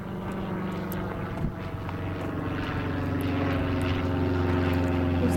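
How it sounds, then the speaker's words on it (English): A propeller airplane passes overhead above an outdoor ranch, its steady droning engine hum loud and continuous and growing slightly stronger over the stretch. "There's a plane flying overhead."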